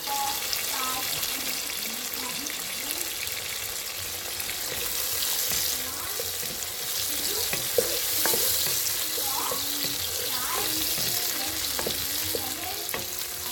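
Shrimp frying in a pan for an eggplant and garden egg stew, with a constant close sizzle and scattered stirring clicks and scrapes, plus faint background voices under the cooking.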